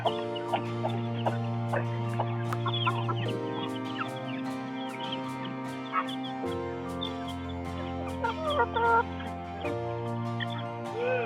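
Several chickens, just let out of their coop to forage, cluck and chatter close by, with short sharp calls scattered over a steady background hum.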